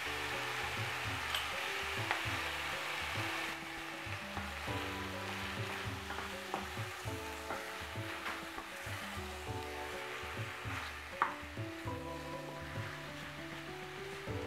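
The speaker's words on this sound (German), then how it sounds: "Ebenfalls Chilipulver und Salz hinzugeben und weiter anbraten." Tomatoes frying in a pan with chili powder and salt for an Indian tomato chutney, giving a steady, close sizzle with soft stirring scrapes throughout and no voices.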